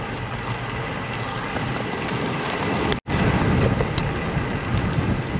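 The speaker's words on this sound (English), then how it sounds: "Wind was challenging, the gusts came at me." Wind gusts roar across the microphone while riding south over the San Jacinto River at Lake Houston, a dense steady rushing noise with a brief dropout midway, then continuing just as strong.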